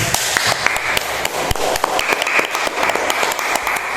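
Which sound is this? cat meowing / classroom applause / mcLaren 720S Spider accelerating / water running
classroom applause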